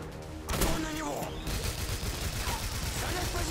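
Sustained automatic gunfire in the Singularity video game, a rapid dense burst of shots that keeps going for several seconds with a brief voice underneath.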